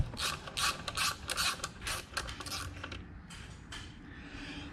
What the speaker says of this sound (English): now we're going to take our 8x125 tap. We're going to run it into that hole to clean those threads up